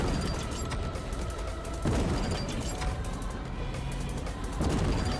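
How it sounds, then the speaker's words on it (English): Grenade launcher firing in a video game boss fight, a continuous clatter of repeated shots and booms at a steady pace, with a few stronger thumps that stand out from the barrage. "It's just a grenade launcher."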